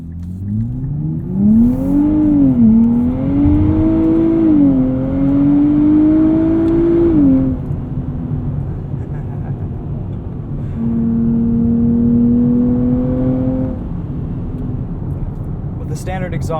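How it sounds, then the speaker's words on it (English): A 2023 Nissan Z with a nine-speed automatic launches hard under launch control, its standard exhaust rising through quick upshifts and then settling into a steadier drone, heard from inside the car. "that'll engage launch control. All the way down. Chirping second and third."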